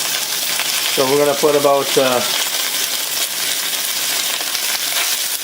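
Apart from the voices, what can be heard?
marinated beef searing in hot pan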